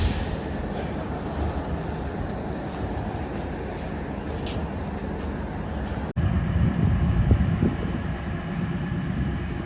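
Train pulling into New Ashti railway station, a steady low rumble of rolling carriages heard from inside, briefly cut off and then returning slightly louder with rattling underneath.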